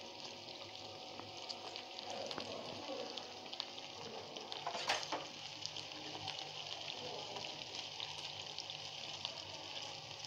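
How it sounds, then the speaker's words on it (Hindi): Curry leaves and onions sizzle in hot oil for dal: a faint, steady hiss runs throughout, with a brief louder spatter near the middle and no voices. "कड़ी पत्ते और प्याज डाल दिया है।"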